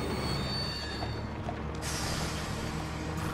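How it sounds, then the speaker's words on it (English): A tram rolling along rails in Red Dead Redemption 2, its steel wheels squealing steadily with a continuous grinding rumble, loud and close throughout without any speech. "Oh, there's a tram."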